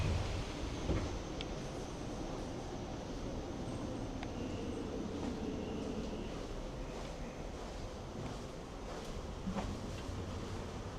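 On board a Hokuhoku Line train, a quiet, steady rolling rumble of the carriage with occasional faint clicks and creaks, continuous throughout with no voices.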